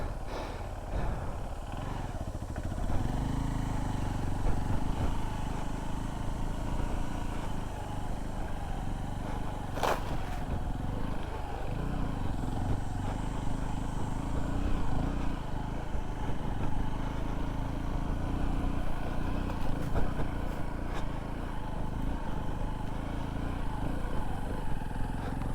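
A 2025 Honda XR150L dual sport motorcycle rides off-road through sand, its small single-cylinder engine droning steadily under heavy wind rumble, with occasional clatter and scrapes from the terrain.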